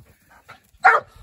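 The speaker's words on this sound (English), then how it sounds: "Where was I before I was rude and interrupted by a damn dog?" A dog gives a single loud, sharp bark close by, after a few quieter muffled sounds.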